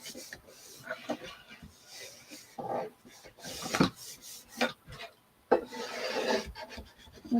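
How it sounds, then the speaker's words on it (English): A small Cricut squeegee burnishing a stencil onto a wooden box frame, making close, repeated scraping and rubbing strokes in short bursts. "I'll just use my little Cricut squeegee to burnish that down."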